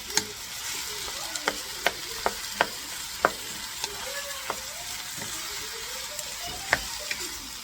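Diced chicken breast sizzling in a hot pan, a continuous close hiss with sharp pops and spatters at irregular intervals, and no talking.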